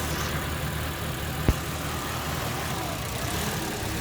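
A Nissan SR20DET engine in a 240sx S13 idles rich while warming up, a steady, close, even drone with one brief sharp tick partway through and no speech.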